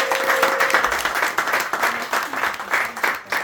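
Audience applause at a gathering in Tangier, loud and close, with clapping pulsing in uneven surges and a faint voice calling out briefly near the start.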